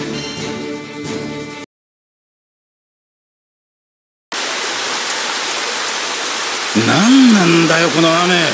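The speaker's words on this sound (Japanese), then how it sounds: "この雨、今までこんな嵐一度だってなかったぜ" A heavy rainstorm in the Granblue Fantasy game: dense, loud rain hiss, then a silent gap before the downpour returns, with a voice speaking over it near the end.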